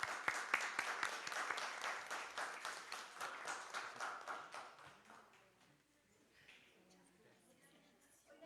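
Audience applause at an academic meeting of a national network of history degree programs, a dense burst of many hands clapping that fades out after about five seconds, leaving quiet room murmur.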